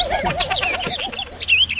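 Birds call continuously on a mountain, with warbling, wavering whistles and chirps overlapping one another, fairly loud and close.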